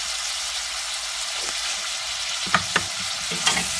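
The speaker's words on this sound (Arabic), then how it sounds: "ونكمل تقليب لغايه اما تاخد لون مع البصلايه وتتقلب معاها كلها" Onions and spices fry in a pan with a steady, bright sizzle, while a few sharp knocks and scrapes from stirring break in near the end.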